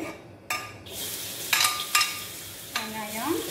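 Garlic hits hot oil for mee goreng mamak, giving a steady close sizzle broken by a few sharp stirring scrapes and clinks of a utensil in the pan.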